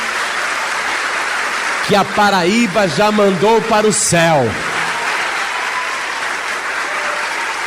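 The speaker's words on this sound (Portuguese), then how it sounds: "desocupe as mãos e vamos dar a melhor salva de palmas" Church congregation in João Pessoa, Paraíba giving a round of applause, a steady broadband wash of clapping throughout, with a preacher's amplified voice speaking loudly over it partway through.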